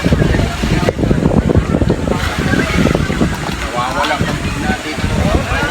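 Strong wind buffets the microphone over rumbling water and a boat engine off Papaya beach, Nasugbu, Batangas, with someone talking loudly through the noise.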